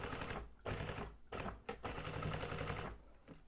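Sewing machine backstitching a seam on a bicycle frame bag, running in short bursts of rapid mechanical stitching separated by brief pauses, close and steady.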